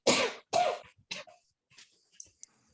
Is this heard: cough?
yes